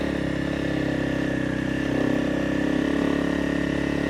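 A Honda CRF300 Rally motorcycle climbs a slope in first gear, its single engine droning steadily up close, swelling slightly midway and holding a constant pull throughout, with no voices.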